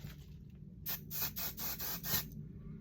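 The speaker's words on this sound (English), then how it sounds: "I'm going to spray this on, but I'm also going to make sure that I spray it in the nape" A spray bottle mists leave-in conditioner onto hair at the nape, giving about five quick hissing pumps in a close, moderately loud burst with no talking.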